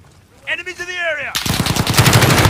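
Rapid automatic gunfire from a Call of Duty helicopter gunship mission, loud and dense, bursting in after a rising electronic radio tone and hammering continuously to the end.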